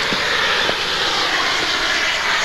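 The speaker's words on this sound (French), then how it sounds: "passage lent du Dash 8" A de Havilland Canada Dash 8 turboprop makes a slow low flypast at a 1988 air meeting in Yverdon, its engines droning loudly and steadily throughout with no break.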